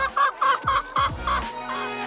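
Organic laying hens on a farm of 2,500 birds cluck in a quick, rhythmic series of close, nasal calls, about seven in two seconds, with no talking.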